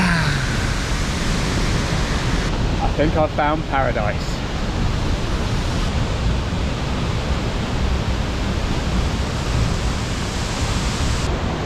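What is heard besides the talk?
waterfall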